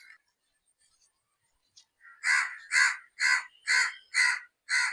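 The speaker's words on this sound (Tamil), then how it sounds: "காக்காவுக்கு இப்பயே பசிக்குது போல இருக்கு." Crow cawing in a garden during a vegetable and flower harvest, six loud harsh caws in a steady series, close by, after a quiet start with a faint brief sound.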